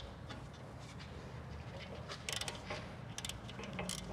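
Bolts on the brake caliper of an Audi A6 are loosened with a wrench during a rear sport brake disc and pad replacement, giving close mechanical ratcheting clicks and creaks with a few sharper bursts, with no talking.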